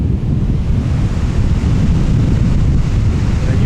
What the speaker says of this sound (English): Look at how windy it is out here. I'm sure you guys could hear it, but look at these waves.